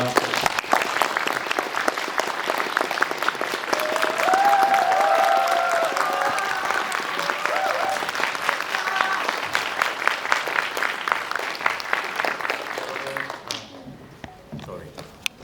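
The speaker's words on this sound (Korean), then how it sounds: "입장하실 때 큰 박수로 환영 부탁드리겠습니다" A cinema audience at a Seoul stage greeting for the Japanese animated film Suzume claps steadily to welcome guests onto the stage. The applause is loud and sustained, voices and some cheering rise over it, and it drops away abruptly at the end.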